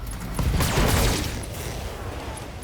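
In the Battletech video game, a mech fires its UAC autocannon and a medium laser, a dense burst of booming shots that swells and then fades into a rumbling tail.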